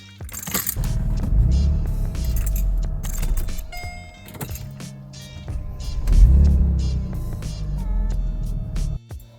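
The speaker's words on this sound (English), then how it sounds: "The speed at which that starter motor turns, we'll have a listen" A Mercedes car engine cranking and catching a couple of times with a new battery, with a low rumble and a whirring starter motor between quieter pauses.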